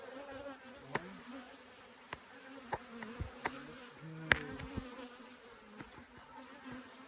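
Honey bees buzz softly and steadily close by during a fall honey harvest from hive boxes, with scattered sharp clicks and taps breaking in throughout.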